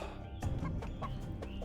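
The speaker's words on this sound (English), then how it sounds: "Oh yeah, there is 2 more chickens." Chickens in the strategy game Age of Mythology Retold cluck repeatedly in short close bursts over a steady game ambience, with no voices.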